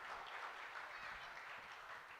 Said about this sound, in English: Can we have a round of applause for all the children,